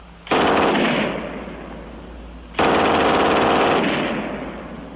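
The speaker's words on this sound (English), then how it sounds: "And last, the German 42 on the tripod." Two long bursts of rapid automatic fire from a German MG42 machine gun mounted on a tripod, loud and close with an extremely fast, tearing rate of fire and a brief pause between bursts.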